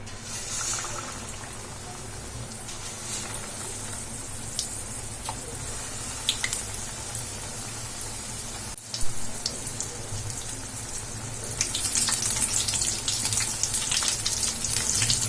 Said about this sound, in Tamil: இப்போ வந்து நம்ம இதை ஆயில்ல போட்டுடலாம்.